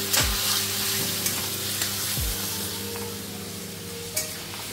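Mutton sautéing in hot oil in a pan for Bengali mutton curry, a loud continuous sizzle close up, broken by a few sharp scrapes and clanks of a spoon against the pan.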